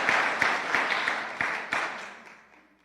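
A church congregation breaks into applause, a burst of clapping with a few sharper claps standing out, then fading away over the last second.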